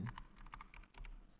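Quick, light keystrokes on a computer keyboard, a short run of soft, close clicks.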